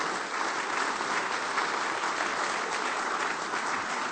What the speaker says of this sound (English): I think all of you should give yourselves a round of applause